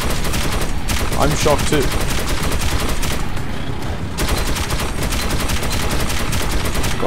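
Gunshots in the Metro 2033 Redux video game, with dense rapid automatic fire rattling almost continuously and loudly up close, broken by a brief lull, while someone speaks briefly over it.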